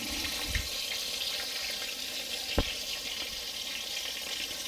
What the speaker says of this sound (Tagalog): ipapry na natin yung ating minarinade na pork chop